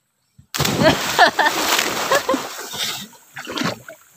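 Someone jumps into seawater with a sudden loud splash, followed by sloshing and churning water for several seconds while people talk nearby.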